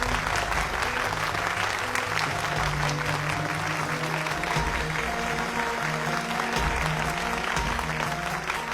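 Sustained loud applause from an audience, dense steady clapping with no breaks and faint music tones underneath.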